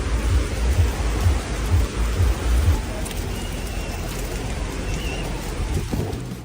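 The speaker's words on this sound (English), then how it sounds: "heavy rain swept over Black Rock City, transforming the flat desert floor into something entirely different" Heavy rain pours steadily over the flat desert playa at Black Rock City, a dense and constant hiss with low thunder rumbling underneath, loud throughout.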